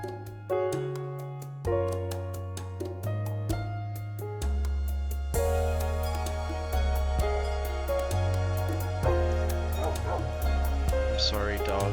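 Dogs in the Minecraft video game yip and whimper in a series of short barks over a loud, steady backing of game music with layered tones.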